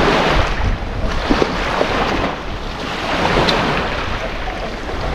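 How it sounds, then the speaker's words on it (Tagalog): Ocean waves surge and wash against the shore as the tide rises quickly, a loud, continuous roar of surf with heavy wind buffeting the microphone throughout. "Nabutan tayo dito ng agos ah."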